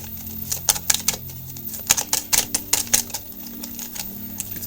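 Tarot cards being shuffled by hand make crisp, close clicks and riffling snaps in quick irregular bursts over a faint low background hum.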